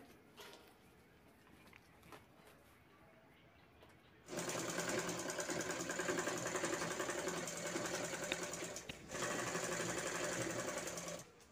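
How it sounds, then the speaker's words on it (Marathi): An electric sewing machine stitches the sides of a bag made from a used rice sack, starting after a quiet stretch with a loud steady whir, pausing briefly, then running on again. "तर आपल्याला 2 बाजू शिवून घ्यायच्यात साईडच्या."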